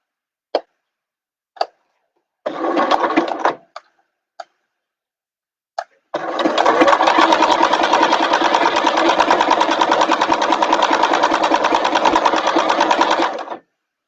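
A sewing machine stitches elastic onto mesh for a bag, starting with a few single needle taps, then a short burst, then a long steady run of rapid even stitching, close and loud, with no talking.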